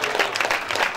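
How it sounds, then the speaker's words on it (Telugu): A church congregation claps loudly and steadily throughout, a dense, even wash of hand claps filling the whole short moment with no pauses. "గట్టిగా చప్పట్లు కొట్టు స్తోత్రాలు చెప్తా."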